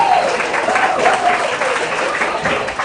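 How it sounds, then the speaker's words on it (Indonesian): An audience at a 2023 campus orientation event applauds with steady, dense clapping that holds at an even level, with faint crowd murmur mixed in. "Tepuk tangan dulu."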